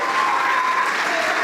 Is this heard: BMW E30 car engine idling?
no